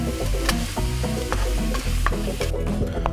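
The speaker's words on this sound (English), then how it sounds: "I'm going to stir all this up together." Food is stirred together in a pan with a continuous sizzle, and a spoon gives repeated close scraping and clinking strokes against the pan over a low hum.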